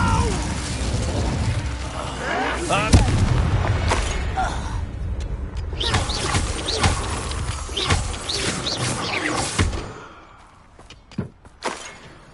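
Incendio fire spell cast in a Hogwarts video game, crackling and whooshing bursts amid clanking combat effects and music, heard over a busy battle mix that fades near the end.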